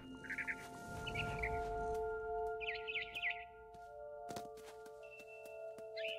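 In-game barn swallow chirps come in short, bright bursts of rapid twittering, several separate calls spaced across a quiet, electronic-sounding background with a low rumble and sharp clicks.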